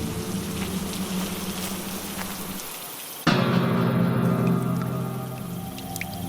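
Steady rain pours on a surface, a dense hiss that stays continuous throughout, with a sudden louder, brighter shift midway as the downpour sounds nearer or heavier.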